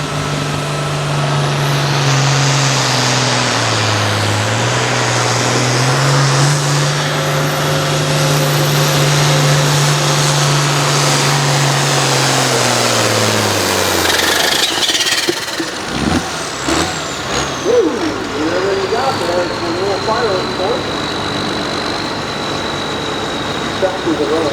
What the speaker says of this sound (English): now we're ready for our enhanced farm tractor